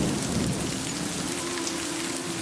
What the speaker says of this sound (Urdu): بادلوں کے ہولناک انداز سے کڑکنے کی آواز.